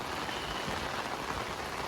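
Heavy monsoon rain on the AIIMS Bilaspur campus, a dense, continuous roar of rainfall hitting surfaces close by, steady and loud with no break and no talk.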